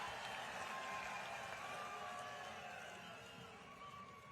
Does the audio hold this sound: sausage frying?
no